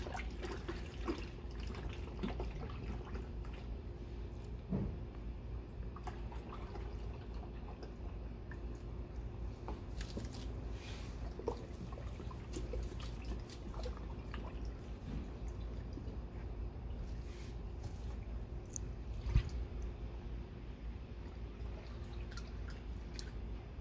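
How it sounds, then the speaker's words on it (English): AMSOIL ATF transmission fluid poured from a quart bottle into the transmission of a 2017 Jeep Renegade, a faint, steady trickle and gurgle running continuously under quiet background noise. "Here we go in the second quart."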